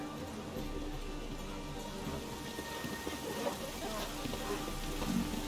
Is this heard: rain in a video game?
yes